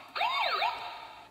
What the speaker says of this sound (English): the sirens come on when we open the back